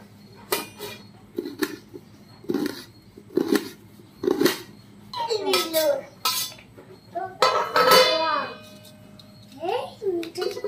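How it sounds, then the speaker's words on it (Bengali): A knife chops an onion on a board for Birbhum-style spicy jhal muri, giving a string of sharp, evenly spaced taps up close, followed by people talking. "এবার আমি পেঁয়াজটা কেটে নেবো।"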